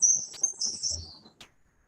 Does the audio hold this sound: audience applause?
no